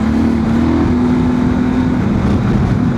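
A Honda Transalp 750 motorcycle with a remapped ECU accelerates hard, its engine note loud and close, droning steadily and climbing slightly in pitch through the run with no voices over it.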